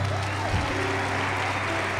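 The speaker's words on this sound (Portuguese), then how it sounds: "Aplauda Jesus aí." A church congregation claps in a brief, dense burst, with a low steady hum or music underneath.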